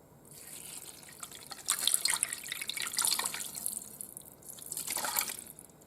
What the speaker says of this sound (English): let's pour my broth in there